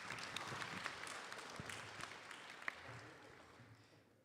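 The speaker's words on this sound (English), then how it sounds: "Please give him a round of applause." A crowd applauds at a temple celebration of a 65th birthday and retirement, a fairly faint but sustained wash of clapping hands that gradually tapers off toward the end.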